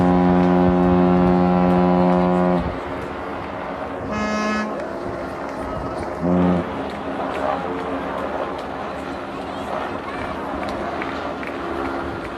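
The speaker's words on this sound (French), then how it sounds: "Et on va se quitter sur cette corne de brume." A ship's foghorn at the Armada de Rouen sounds a long, loud, deep blast on the quayside, then fades into crowd bustle with a couple of shorter horn toots and voices in the background.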